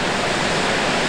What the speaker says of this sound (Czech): A je tady vodopád